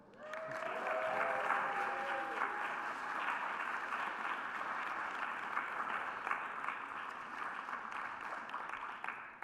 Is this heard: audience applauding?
yes